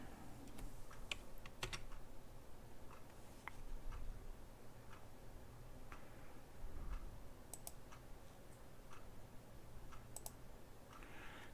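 Quiet, irregular keystrokes tap on a computer keyboard in short clusters, fairly close, over a faint low hum, with no talk.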